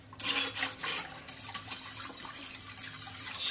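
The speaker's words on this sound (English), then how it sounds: "Stir it up in there." Whisk stirring in a bowl while making homemade chicken enchiladas, a quick run of light metallic scraping and clinking that starts busy and then thins into softer, intermittent stirring.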